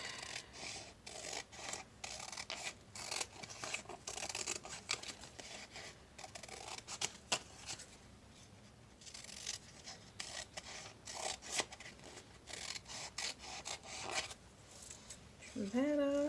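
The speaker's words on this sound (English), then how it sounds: "we're going to cut the strips apart" Scissors cut apart paper bookmark strips in a steady run of close, rasping snips and paper rustles that continue throughout, with a voice briefly starting near the end.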